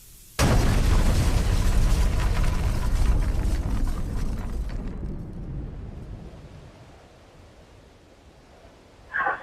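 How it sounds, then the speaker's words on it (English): A propane tank explodes at a store, erupting in a sudden loud, broad roaring blast that rumbles on for several seconds, slowly fades, then gives way to a short final burst. "the propane found an undetermined ignition source and exploded"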